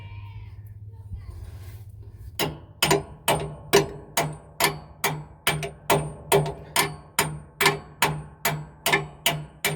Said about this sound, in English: Now you can bang away on that nut with your hammer.